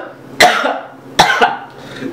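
A person coughs in two loud, harsh bursts, a single hack followed about a second later by a quick double cough, with quiet room noise between them.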